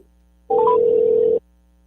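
A telephone call tone, a few quick rising dial beeps leading into one steady electronic tone that lasts just under a second, loud and close, with no voices.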